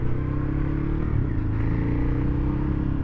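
A Ducati Hyperstrada motorcycle with a jumpy clutch rumbles steadily while being ridden, its engine drone continuous and fairly loud with wind noise, no voices.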